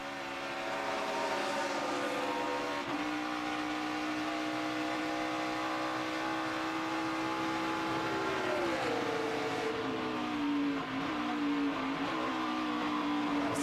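Steady engine drone from NASCAR stock cars running the 2013 Zippo 200, a continuous loud roar with sustained pitch that shifts and dips around the middle, no talk over it.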